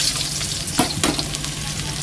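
Garlic sautés in a hot pan for sautéed mung beans, a steady close sizzle with a couple of brief stirring scrapes.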